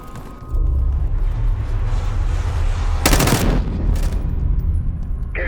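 Dense, continuous bursts of rapid gunfire in the video game Call of Duty: Black Ops 6 rattle loudly throughout, with sharp cracks standing out midway, a sustained firefight with no talking.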